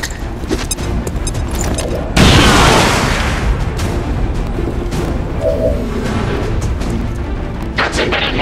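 A grenade explodes in XCOM 2 with one loud, close boom that rolls and fades over several seconds, amid scattered gunfire and brief voiced callouts.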